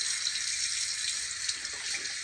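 A cold-water tap runs steadily into a sink, a close, continuous hiss and splash with no voices.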